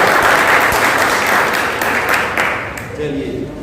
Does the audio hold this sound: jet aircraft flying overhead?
no